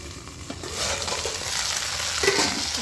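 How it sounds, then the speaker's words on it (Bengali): Okra fries in a pan with a continuous crackling sizzle, broken by scraping stirring strokes, close and fairly loud with no voices. "এদিকে ভেন্ডিটা ভাজা হতে থাক"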